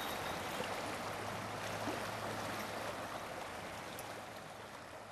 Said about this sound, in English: We're about to paddle the Carroll Creek.